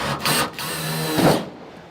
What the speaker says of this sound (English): just let the drill do the work